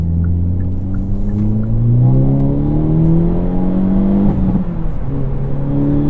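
A 2023 Hyundai Elantra N accelerates at full throttle, its engine note climbing steadily through the revs with a loud, droning rise, a brief dip as it shifts, then pulling hard again, heard from inside the car.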